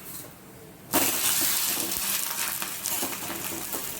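Sorakaya (bottle gourd) roti frying in an AMC cookware pan: a sudden loud sizzle starts after a quiet moment and keeps crackling steadily, with small spits and pops, close by.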